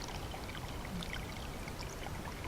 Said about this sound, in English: We have nice clean water coming in here